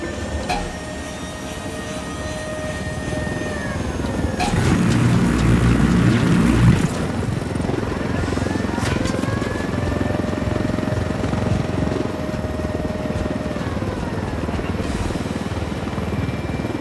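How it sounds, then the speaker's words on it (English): A helicopter in the Ghost Recon Wildlands game drones with a steady rotor and engine roar, swelling louder for a few seconds, then settling into a constant hum mixed with other game sounds. "Let's take your helicopter."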